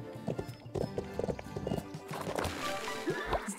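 A horse in the video game Bibi & Tina: Auf dem Martinshof trots downhill, its quiet clip-clopping hooves falling in an uneven rhythm, with a short whinny among the steps.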